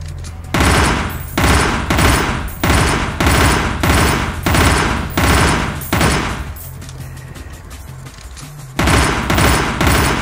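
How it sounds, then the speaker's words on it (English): An M14 rifle blasts away in the top-down shooter Teleglitch, with loud, evenly spaced shots cracking in a steady rhythm. After a brief lull the firing resumes, each report close and heavy. "Try out the old M14."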